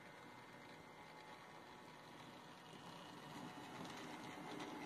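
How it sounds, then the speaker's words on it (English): A DC model railway train controlled over Bluetooth by an Arduino runs with a steady mechanical whirr and faint rail clatter, and the sound grows slightly louder toward the end with no voices. "the train should always start and stop nice and smoothly"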